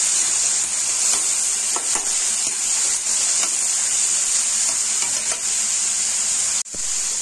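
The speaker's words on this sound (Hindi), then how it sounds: "गोभी को 10 मिनट तक फ्राई किए हैं।" Cauliflower pieces fry in hot oil in a pan, giving a steady loud sizzle broken by a few soft scrapes of stirring, with a short dropout near the end.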